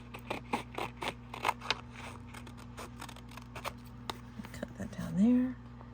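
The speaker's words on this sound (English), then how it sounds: "I am just letting my scissors get guided." Scissors snipping paper while a travel journal is being made, a quick run of crisp close cuts followed by softer scraping, with faint talk.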